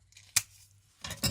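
Scissors cut paper for a dimensional paper star. There are a few quiet, brief snips close by: one sharp cut, then two more in quick succession after a pause.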